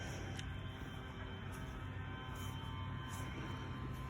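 A heavy single-seat Air Tractor model airplane drones overhead in a steady, fairly faint engine hum that holds evenly throughout, with no voices.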